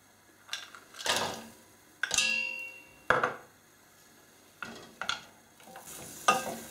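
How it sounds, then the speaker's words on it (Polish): Butter and broken dark chocolate are stirred in a small saucepan over low heat on a stovetop, heard as about six separate scraping strokes against the pan, close and clear, with quiet pauses between and no voices. "Cały czas oczywiście mieszam."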